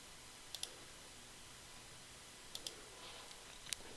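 A computer mouse clicks faintly against a quiet background, a few crisp double clicks spaced about a second or two apart.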